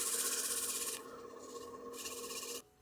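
Hand sanding of a turned wooden cake stand with 240-grit sandpaper, giving a continuous close raspy rubbing that eases slightly midway before stopping abruptly near the end.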